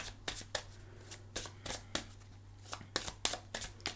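Tarot cards being shuffled by hand, a burst of crisp riffling snaps repeating in quick irregular bunches, close and fairly quiet over a low steady hum.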